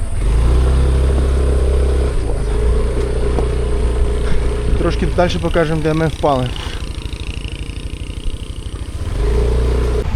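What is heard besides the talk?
motorbike riding on a rough road in Bali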